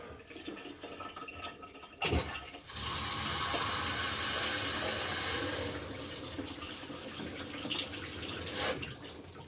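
Hot water gushes from a newly replaced vessel sink faucet, starting with a sharp knock and then running steadily for several seconds before easing off, close and fairly quiet.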